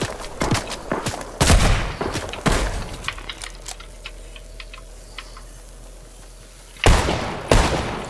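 Fortnite gunfire comes as sharp, loud shots in spaced bursts, with quicker rapid volleys near the end and a quieter lull in between.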